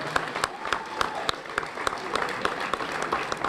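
A crowd claps steadily for a few seconds, a dense patter of many hands with no voices standing out.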